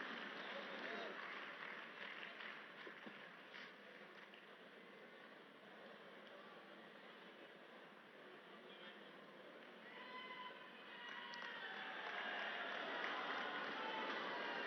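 An audience at a Delhi public event applauds, a thin, distant wash of clapping that runs throughout, dips in the middle and swells again toward the end, with a voice talking over it.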